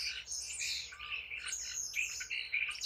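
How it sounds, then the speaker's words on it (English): A common starling gives a run of squeaky, whistling chirps and squawks, fairly faint and continuous over a low background hum, with no talk. "This is a common starling"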